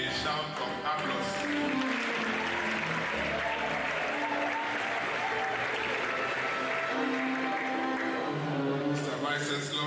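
A university convocation audience bursts into sustained, dense applause filling the whole stretch, steady and enthusiastic with a crowd murmur beneath.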